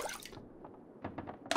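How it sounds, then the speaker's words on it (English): Water sloshes and drips as it is scooped from a toilet tank in the survival game The Long Dark, a few short, quiet liquid splashes close by with no talking. "Oh, we're gonna get some toilet water"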